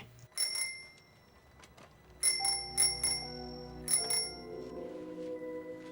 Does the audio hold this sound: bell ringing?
yes